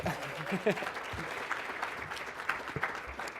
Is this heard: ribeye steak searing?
no